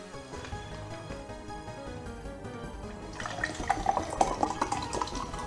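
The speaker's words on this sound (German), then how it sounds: "Und ich kipp kurz die Zitronenlimo weg, die eigentlich Wasser sein sollte." Lemonade is poured away and splashes as a liquid stream, entering faintly and growing into a clearer gurgling, trickling pour in the last couple of seconds over soft background sound.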